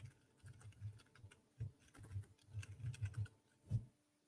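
Quick bursts of keystrokes on a computer keyboard, tapped in an uneven, rapid rhythm with brief pauses, close and fairly quiet with no voices.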